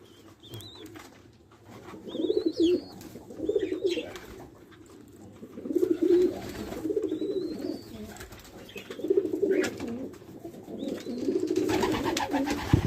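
Turtle doves coo at the nest in repeated soft, low, throaty bursts of a few seconds each. Faint chirps from other birds sound between the bursts.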